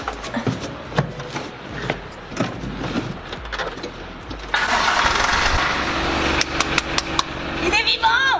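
A vehicle motor cranks and catches at about the midpoint, then settles into a steady running hum, preceded by clunks and handling noises with a person talking throughout.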